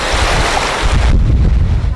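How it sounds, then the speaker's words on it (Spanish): Calm Caribbean Sea surf at Joyuda, Puerto Rico washes in as a broad, loud roar mixed with heavy wind buffeting on the microphone, steady throughout with a deeper rumble in the second half. "Esto es Joyuda, es el mar Caribe, que es un mar pacífico, tranquilito."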